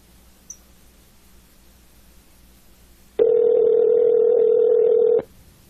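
A telephone call waits to be picked up: quiet line noise, then a single loud, steady ringback tone lasting about two seconds before cutting off, heard alone without talk.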